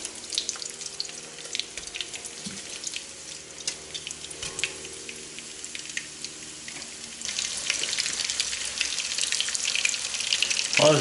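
Pieces of meat for Irish stew brown in a hot pan in batches, giving a steady crackling sizzle that grows louder and busier partway through, with no voices.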